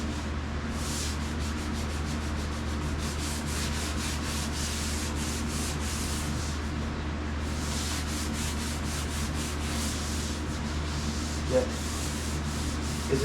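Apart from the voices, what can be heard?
hand sanding paintwork with 220 grit sandpaper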